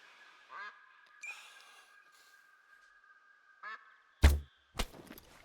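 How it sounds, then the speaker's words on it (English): A flock of Eurasian Wigeon calls in theHunter: Call of the Wild, with a few short whistling, quacking calls over a thin steady tone, followed by two sharp loud bangs near the end. "We also got an Eurasian Wigeon flock over here."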